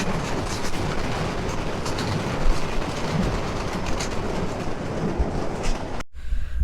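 Out in the open, a train rolls past on a railway line in a steady, loud, broadband rush of wheels and carriages with faint rhythmic clacking that stops abruptly near the end.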